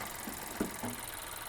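A 2025 Buick Envista's 1.2-liter three-cylinder engine idling, a faint, steady low hum with a slight uneven shake and a few soft knocks.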